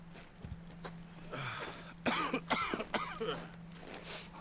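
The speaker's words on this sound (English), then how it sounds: "Don't you start coughing, Pearson." A man coughs several times in quick, rough bursts in the video game Red Dead Redemption 2, fairly close, over a faint low hum and quiet background.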